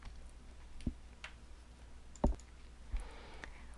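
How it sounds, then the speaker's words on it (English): A computer mouse clicking three times at spaced intervals, crisp close taps over a faint background hum with no talking. "I'm going to click to see the example and then create the list"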